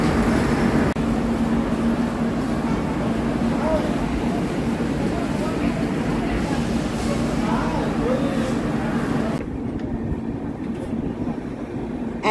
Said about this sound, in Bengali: একদম নির্ধারিত সময় কিন্তু ট্রেন ছেড়ে দিল কোডারমা স্টেশনের 4 নম্বর প্ল্যাটফর্ম থেকে